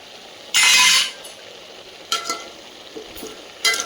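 Vegetables being stirred in a pot for Pongal kulambu, with a sharp scraping stir followed by a few softer scrapes and clinks against a faint hiss.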